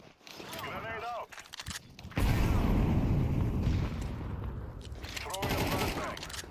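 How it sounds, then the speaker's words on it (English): A Counter-Strike 2 match brings a loud, booming blast partway through, followed by a sustained rumbling roar, with bursts of gunfire earlier and later. "Grenade out."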